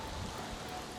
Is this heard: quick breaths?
no